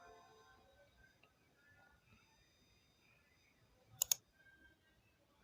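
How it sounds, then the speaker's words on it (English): A quick double mouse click sound effect rings out alone, sharp and close, standing out against a quiet, faintly humming background. "let me use this mouse click. I think I can work with this mouse click."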